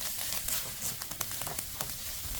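Garlic sautéing in a pan for pork igado, a quiet, steady sizzle with scattered crackles and small pops, heard alone without talk.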